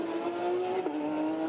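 A GT race car in Nürburgring qualifying passes with a steady, sustained engine drone, a moderate pitch that dips slightly midway as it goes by, no talk over it.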